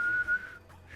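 A person whistles a short, thin note to mimic a secret-area cue in the video game Have A Nice Death. The whistle is faint, close and brief, and fades into near silence.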